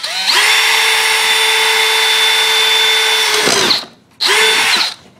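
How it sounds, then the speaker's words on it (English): A power drill whines loudly at a steady pitch for several seconds while drilling a hole to fit a front tow hook on a Honda S2000, stops briefly, then gives one short final burst. "I'm just going to drill a hole right through here."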